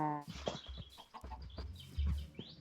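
A chicken in a Minecraft-style video game gives a few short, near clucks amid scattered game noises and footstep-like thumps, with no talk.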